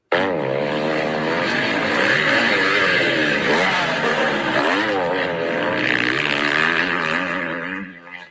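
Four-stroke motocross bikes race in a dense, continuous engine roar that stays loud throughout as revs rise and fall, then fades slightly at the very end. No voices are heard.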